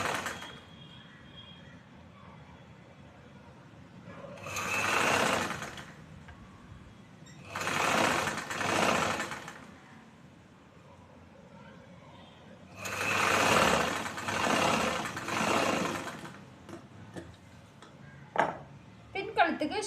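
A sewing machine stitches choli fabric in bursts of rapid, steady mechanical whirring, each run lasting a second or two and separated by pauses with soft handling noise as the cloth is turned.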